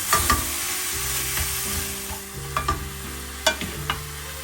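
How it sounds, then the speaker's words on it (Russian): Ground meat sizzles steadily in a hot pan while a utensil scrapes and stirs, with occasional clicks and knocks against the pan. "Фарш сразу же разминаю на сковороде."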